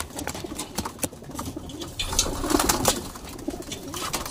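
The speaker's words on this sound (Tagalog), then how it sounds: "ito nga pala yung binibida ko ngayon na ibon. Bagong ibon dito sa loob ko" A racing pigeon coos softly inside its loft, with steady rustling and background noise around it.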